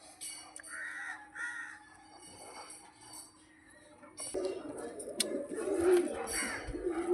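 Pigeons of a fancy flying breed, including a white-eyed red hen, give soft coos and wing flutters near a loft, with louder bird calls and rustling building toward the end.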